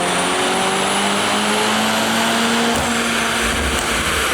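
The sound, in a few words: Mercedes C63 engine on dyno run with JB4 map 2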